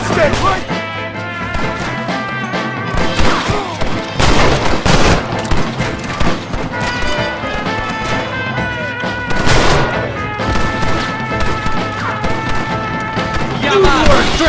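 Loud gunfire in a Red Dead Redemption shootout against traitors, with repeated close shots and bursts over shouting voices and a continuous backdrop of battle noise.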